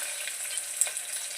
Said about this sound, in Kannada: ನಂತರ ಜಜ್ಜಿರೋ ಬೆಳ್ಳುಳ್ಳಿನ ಹಾಕ್ತಾ ಇದ್ದೀನಿ.